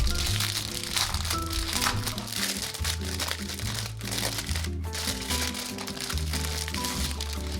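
Packaged planner stickers being unboxed give off continuous crinkling and rustling of plastic packaging, close and busy, layered over steady background music.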